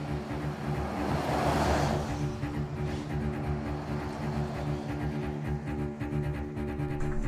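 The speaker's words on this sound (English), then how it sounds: "We're driving on a moderately bumpy road, couple rocks, couple potholes." A 6th-generation Toyota 4Runner drives over a moderately bumpy off-road trail with rocks and potholes, giving a steady loud low rumble of engine and tyres along with irregular knocks and rattles from the cabin.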